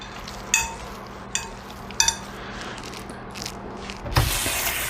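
Garlic Plus spice shaken from a bulk container over cubes of pork belly, a few soft sprinkling bursts with light clinks, the last one longer and louder, in a quiet kitchen.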